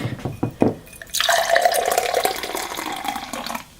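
Monster Energy DUB Edition Baller's Blend fruit punch drink pours from the can into a glass, a steady gurgling splash lasting a few seconds after some brief handling clicks, then tapering off.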